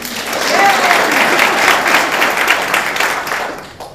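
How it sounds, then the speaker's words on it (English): A theatre audience bursts into loud, dense applause at a centennial anniversary event, a full wash of many hands clapping together that holds steady and then fades toward the end. "I'm going to say two names, and after each name, I'd like to get a clap."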